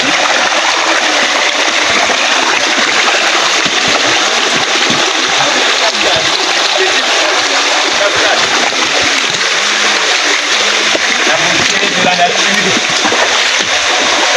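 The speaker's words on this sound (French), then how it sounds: "nous vous présentons cette belle cascade" A natural forest waterfall near a gold-panning village cascades continuously, a loud, steady rushing and splashing of water with no break.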